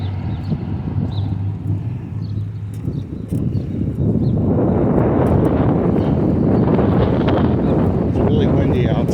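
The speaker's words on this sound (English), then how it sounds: "It's really windy out today." Strong wind buffets a microphone during a bike ride across a parking lot, a low, rumbling roar that grows heavier and constant partway through, with someone talking over it.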